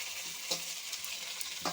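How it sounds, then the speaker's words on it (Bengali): Potatoes fry quietly in a pan with a soft, low sizzle, broken by a few light stirring clinks and scrapes. "আলুটা তাড়াতাড়ি নরম হয়ে যাবে, ভাজা ভাজা হয়ে যাবে"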